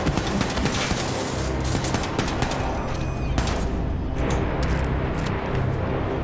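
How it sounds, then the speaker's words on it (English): Dense, continuous gunfire from the shooter game Wolfenstein II: The New Colossus, with rapid overlapping automatic shots and bursts layered loudly over a rumbling battle background throughout. "Who is shooting?"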